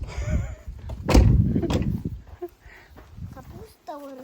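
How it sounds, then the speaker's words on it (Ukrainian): A door is pushed shut with a solid thud partway through, amid shuffling and movement noises, while people talk nearby. "Закрити за вами двері."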